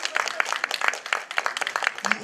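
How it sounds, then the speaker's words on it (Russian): Applause at a school KVN comedy contest, a brief burst of quick, uneven clapping from an audience, fairly close and bright, lasting about two seconds. "Аплодисменты"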